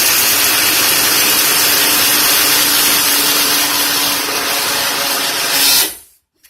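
A countertop blender mixing a protein shake roars loud and steady for several seconds, then cuts off abruptly into silence.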